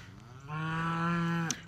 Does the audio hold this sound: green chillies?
no